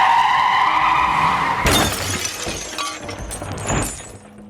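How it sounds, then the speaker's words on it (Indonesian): A motorcycle skids with a long screech on the road, then crashes down with a sharp smash and clattering debris, followed by scattered fainter impacts as the noise dies away. "Motor yang dikendarai seseorang itu terjungkal akibat menghindari Nila yang berlari di tengah jalan."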